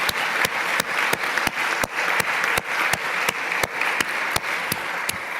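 Steady audience applause at a closing ceremony, a dense wash of many hands clapping continuously for about five seconds, with a few sharper individual claps standing out through the crowd.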